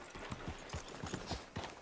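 Horse hooves clip-clopping in Red Dead Redemption 2, a steady rhythmic series of about a dozen close hoofbeats at a walking pace, heard alone without voices.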